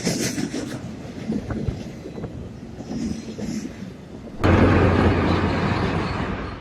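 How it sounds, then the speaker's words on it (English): A small Croatian Railways shunting locomotive passes outdoors, starting with wind-buffeted rumble before a sudden louder surge of engine and rail noise as it draws close, with a steady low hum continuing to the end. "This is a small Croatian Railways locomotive designed for short routes and shunting."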